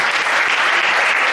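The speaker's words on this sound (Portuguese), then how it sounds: "Você pode aplaudir a Deus acima da sua cabeça?" A congregation at an Assemblies of God church anniversary vigil claps loudly and steadily, a dense, continuous wash of many hands filling the room with no break.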